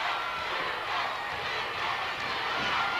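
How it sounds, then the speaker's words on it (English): A large wrestling arena crowd chants during a 1986 UWF television match, a dense, steady roar that holds at a loud level for the whole stretch with no single voice standing out. "The crowd, you can hear them chanting, Dugan, Dugan"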